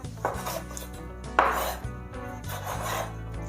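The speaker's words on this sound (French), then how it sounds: "On commence donc par découper notre viande en de beaux morceaux." A knife chops and scrapes veal into pieces on a board in several uneven strokes, close and fairly loud, with a clatter of cookware in between.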